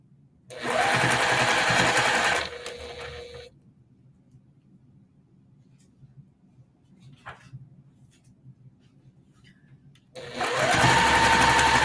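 A sewing machine stitching quilt block pieces runs in two loud, steady whirring bursts, one at the start and one at the end, with a quiet gap of faint room noise and small knocks between them.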